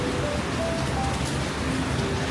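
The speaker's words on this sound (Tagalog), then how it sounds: "Lakas ng ulan?" Steady, dense hiss of heavy rain in Singapore fills the whole clip without a break.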